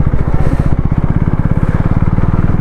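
A KTM Duke 390 motorcycle engine running close and loud on a ghat road ride, giving a steady, rapid thumping pulse with a deep, even rumble.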